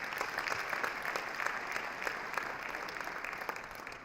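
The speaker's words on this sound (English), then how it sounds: "Give him a round of applause, Edna." Audience applause at a charity golf event hosted by a foundation, a steady round of clapping from a moderately distant crowd that holds evenly throughout with no talking over it.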